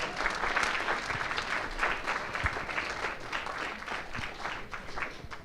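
An audience at an Ideas on Tap local-branding talk applauds after a question-and-answer session, a steady wash of many hands clapping for about five seconds before tapering slightly.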